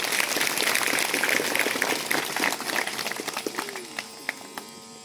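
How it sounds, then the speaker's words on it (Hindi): Crowd applause at a silver jubilee thanksgiving mass in a parish church, dense clapping that is loud at first, then thins out into scattered claps before fading. "सभी को जोरदार तालियों के साथ सबका स्वागत है।"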